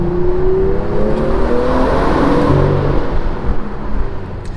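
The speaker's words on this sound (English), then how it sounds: "this exhaust is so entertaining when you just want to have fun" A modified-exhaust BMW M2 F87 revving as it drives, a loud, close, rising engine drone that swells and holds with a throaty rasp, heard alone without speech.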